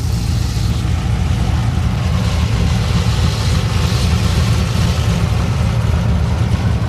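Supercharged 2014 Camaro SS with a manual gearbox running without catalytic converters, a deep, loud, rumbling idle that stays smooth and steady for the whole stretch, close up, with no talking.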